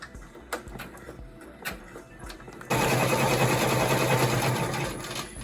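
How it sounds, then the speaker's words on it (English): A cap embroidery machine sits quiet with a few clicks and knocks, then starts stitching a cap with a loud, fast, steady mechanical rattle that continues to the end. "press embroidery, lock, and the green flashing light, and off it'll go"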